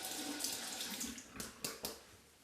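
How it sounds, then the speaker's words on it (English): Tap water runs steadily into a sink as a comb is wetted under it, a close, hissing stream broken near the end by two or three brief louder splashes. "Wet the comb a little bit."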